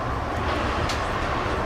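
Steady, loud rumble from inside a moving passenger train, a continuous broadband roar with a faint swell partway through and no talking.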